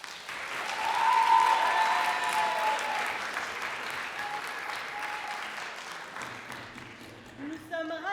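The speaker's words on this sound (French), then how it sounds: "vous pouvez encore les applaudir" A theatre audience applauds the opening act, a dense, steady wash of clapping that swells early and holds throughout, with a few voices near the end.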